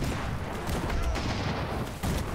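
Bombs dropped from an airship explode in the video game Airships: Conquer the Skies, a dense, continuous barrage of loud booms and crackling blasts with faint voices mixed underneath.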